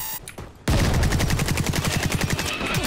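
Sustained automatic gunfire in the shooter game Caliber: after a brief lull, a loud rapid stream of close shots rattles on steadily to the end, with no talking.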